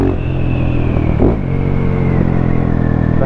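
Husqvarna 701 single-cylinder motorcycle engine runs loud and close with a deep, throbbing rumble, swelling briefly in a short rev before settling back to a steady note.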